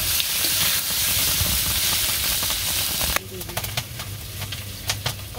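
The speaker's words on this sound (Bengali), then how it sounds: "দিয়ে দিলাম তেলটা, সরষে দিয়ে দিলাম, মাছটা আমি দিয়ে দিব, দিয়ে দিলাম।" Fish frying in hot oil with mustard in a village kitchen, a steady loud sizzle and hiss that drops off after about three seconds into softer crackling and spitting.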